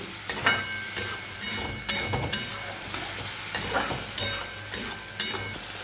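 Onion, garlic and green chilli frying in a pan, a steady close sizzle broken by regular scraping stirs of a spoon every half second or so.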